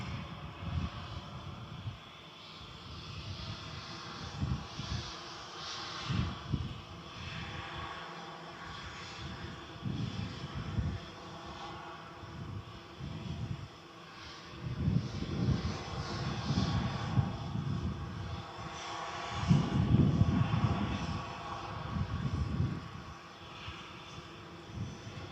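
Two Sun Express Airbus A320neo airliners at Manchester Airport, one arriving and one departing, their distant engine rumble rising and falling in uneven low surges over a faint steady whine.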